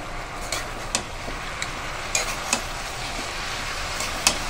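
Cabbage and katla fish head curry being stirred in a pan, a constant sizzle with scattered clinks and taps of the spoon against the metal.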